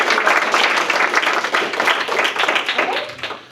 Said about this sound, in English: Let's give a round of applause to Sarah Driscoll.